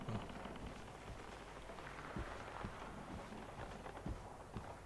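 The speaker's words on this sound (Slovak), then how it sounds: "Všade prší." Rain falls steadily in the horror video game Outlast, a constant hiss of drops with a few soft thuds scattered through it, and no talk over it.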